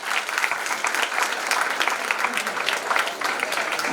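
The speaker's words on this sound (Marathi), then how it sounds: "एकदा पालकांसाठी आणि शिक्षकांसाठी सगळ्यांनी टाळ्या वाजवा" Dense applause from an audience at a convocation ceremony for an interior and fashion design institute in Nashik, clapping steadily and loudly throughout for parents and teachers.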